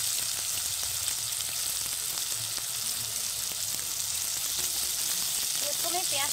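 Onion paste and garlic powder sizzle in hot oil in a pan for prawn curry, a steady, dense frying hiss held close and even throughout, with a faint voice briefly near the end.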